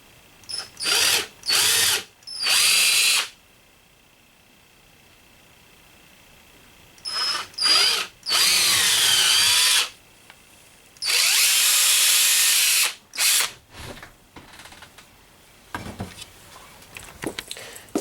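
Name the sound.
drilling holes in leather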